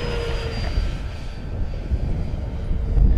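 An E-flite Draco 2.0 RC plane flies at full throttle in gusty wind, its steady electric motor drone holding loud and close for the whole stretch, with a continuous high whine running over the rumble.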